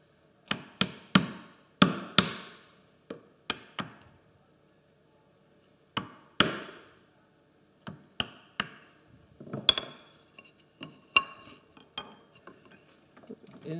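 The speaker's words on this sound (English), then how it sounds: "Make sure your chisel stays sharp, especially when it comes to this trimming." A chisel trims inside a wooden dovetail joint, giving sharp isolated taps and short scraping cuts in irregular bursts separated by quiet pauses, close and fairly crisp.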